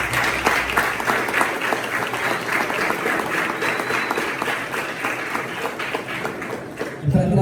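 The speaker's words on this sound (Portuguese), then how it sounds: "aplauda a palavra de Deus." A church congregation at a youth gathering breaks into sustained applause, a thick crowd of clapping hands that stays steady for several seconds, with a voice coming in briefly just as it ends.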